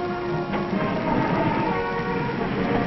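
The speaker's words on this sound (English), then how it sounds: "Moving truck trailers on railroad flat cars between terminals." A railroad train hauling truck trailers on flat cars rumbles past in a continuous loud roar with rattling wheels and steady mechanical clatter throughout, no voices.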